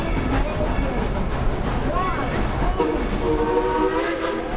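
Dollywood Express steam train running on its rails through a full circuit in 2014, a steady loud rumble of wheels and cars with a brief whistle tone, crowd voices mixed underneath.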